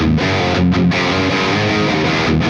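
Electric guitar played through the Tonocracy amp simulator with a Mega Gen cabinet impulse response, dense distorted chords ringing continuously and loud, with no talk.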